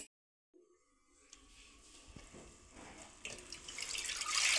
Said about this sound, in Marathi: बघा किती फेस आलेला आहे आणि पाणी सुद्धा घाण आहे, हे पाणी काढून टाकू आपण आता।